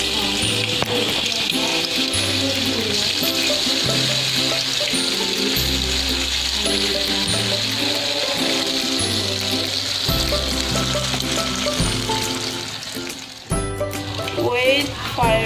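Tahu rambutan frying in hot oil gives a steady, bright sizzle that runs under background music throughout, dipping briefly near the end.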